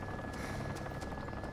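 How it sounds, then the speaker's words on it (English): Steady, continuous rotor drone of a helicopter flying in the video game DayZ, moderately loud and filling the whole moment without talk. "Oh, you got a chopper?"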